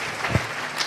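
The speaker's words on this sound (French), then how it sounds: "Est-ce que nous pouvons acclamer très fort?" A church congregation claps in a short, loud burst of applause lasting under a second, with a faint voice mixed in.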